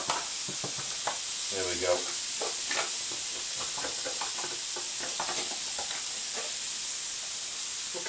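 Chicken pieces for a stir fry sizzle and hiss steadily in a frying pan, a continuous bright crackle with brief clinks and a short spoken remark over it.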